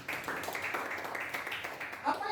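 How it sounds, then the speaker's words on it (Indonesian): A church congregation at a GBI Bahtera Anugrah worship service applauds in a steady, dense wash of clapping, with voices mingling throughout the crowd noise. "Kita berikan tepuk tangan Tuhan."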